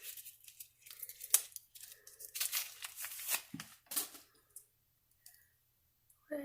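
Packing tape is ripped off a cardboard makeup swap box in several short tearing bursts with crinkles and clicks, close by, then a quieter pause.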